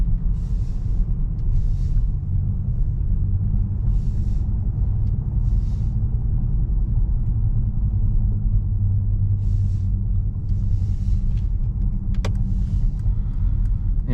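Long-wheelbase 2021 Mercedes S-Class driving through city streets at night, a steady low road rumble and engine hum that stays even throughout, with faint higher hiss and occasional light rattles, no talking.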